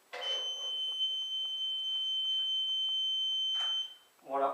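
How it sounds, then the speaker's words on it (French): An electrical continuity tester emits one steady, fairly loud beep lasting about three and a half seconds while earth connections on radiators are checked. Brief talk is heard at the start and end. "Voilà, il bip."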